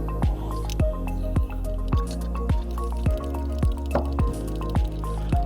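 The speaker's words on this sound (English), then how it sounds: "Then we'll pour it out, get it ready for the next." Black-and-white film developer drains out of a developing tank in a series of regular, wet glugs and drips, each a sharp splashy burst repeating about every half second, close and clear.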